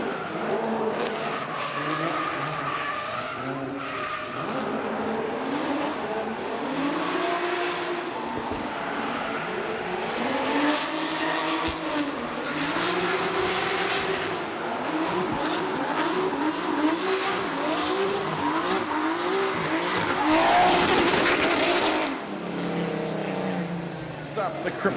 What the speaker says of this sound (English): Jerry Zhu in the NOB building machine next out on track.